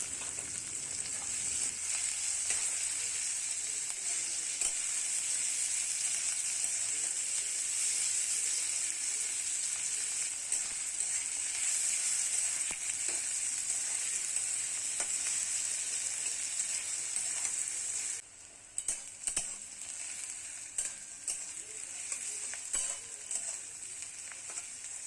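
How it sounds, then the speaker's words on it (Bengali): Chopped onions fry with cumin and whole spices in mustard oil, producing a continuous loud sizzle and hiss that carries on evenly, briefly dipping and sputtering near the end. "দিয়ে এরপরে পেঁয়াজ কুচি দিয়ে দেবো, দিয়ে ভালো করে ব্রাউন হওয়া পর্যন্ত ফ্রাই করব।"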